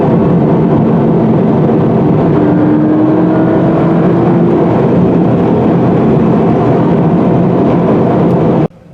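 A 2018 Toyota 86 GT driving along a mountain road, a steady loud engine and road drone heard from inside the cabin throughout, ending abruptly near the close.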